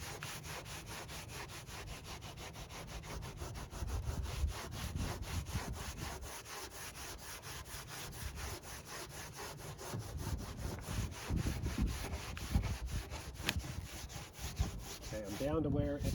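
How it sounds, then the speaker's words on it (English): Foam on a C8 Corvette body is sanded by hand in fast, steady back-and-forth rasping strokes. The scraping is close and continuous but fairly quiet, with no talking. "So I still have more sanding to do."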